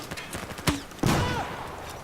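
Gunfire in the video game Battlefield 4 sounds as a sharp shot followed by a louder burst of fire that decays into rumbling echo, with faint background noise between.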